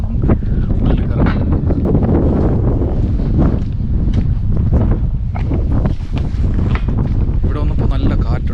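Strong, cold wind sweeps the hilltop grounds of Sameba, the Holy Trinity Cathedral in Tbilisi, Georgia, buffeting the microphone with a loud, continuous roar and gusty rumble throughout.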